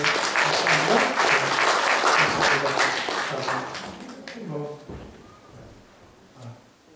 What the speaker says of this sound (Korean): 한번 박수 한번 환영하시겠습니다.